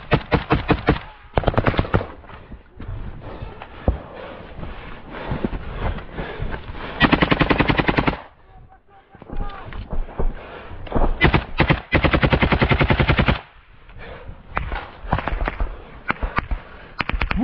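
Automatic rifle fire in a combat setting, long loud rattling bursts and rapid volleys repeating across the stretch with brief lulls between them, close and harsh.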